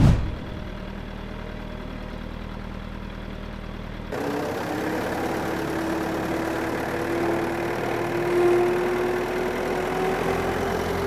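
A 1951 MAN tractor engine starts up and runs steadily at idle, a low continuous drone with a faint rising tone, heard alone with no talk.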